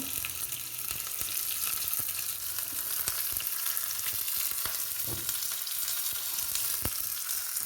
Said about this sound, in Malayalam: ഇനി നമുക്കിതൊന്ന് ഇളക്കി മൂപ്പിക്കാം